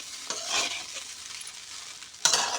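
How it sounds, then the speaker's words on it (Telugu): Fried rice with chili powder being stirred in a hot pan, a close scraping stir over a steady sizzle, with a sharper burst of frying noise near the end. "ఆ కారం కూడా కలిసిన దాకా తిప్పాలి బాగా"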